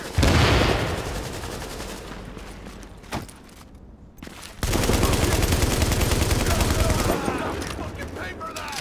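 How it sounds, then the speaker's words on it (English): Gunfire in The Division, loud bursts of automatic shooting that drop away into a quieter stretch with a few isolated shots, then a sustained heavy volley resumes, with voices underneath. "Who's doing the shooting there?"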